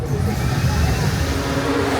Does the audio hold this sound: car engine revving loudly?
yes